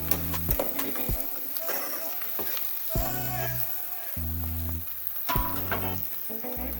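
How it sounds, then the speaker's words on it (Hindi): Chopped carrots and vegetables frying in a pan for spicy vegetable pasta, a continuous sizzle broken by regular thumps and scrapes of stirring, with faint background tones and no clear talk. "सॉफ्ट होने तक फ्राई करेंगे"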